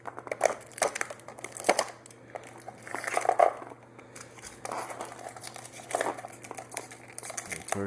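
Paper pieces being cut out with scissors for a craft, crisp snipping and crinkling of the sheet in short bursts close by, with a voice talking between the cuts.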